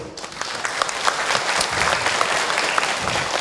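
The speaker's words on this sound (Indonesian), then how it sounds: "boleh tepuk tangan untuk Akh Hilman" Audience applause for a speaker at an Islamic religious talk, a steady, dense patter of clapping from a room of listeners holding at an even level for several seconds.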